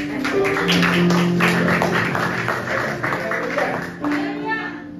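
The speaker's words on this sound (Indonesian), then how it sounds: "Kita berikan tepuk tangan." A congregation at a church service clapping together, rapid rhythmic claps under sustained voices and musical tones.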